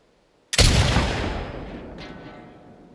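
A single rifle gunshot in The Last of Us Part II, sudden and loud, with a long rolling echo that decays over a couple of seconds and a faint thin sound partway through the tail.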